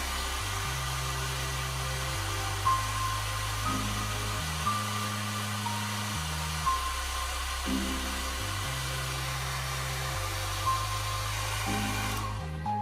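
A hair dryer blows hot air steadily onto a metal model railway track weathered with enamel binders and pigment, a continuous close whooshing hum with slight pitch steps as it is moved.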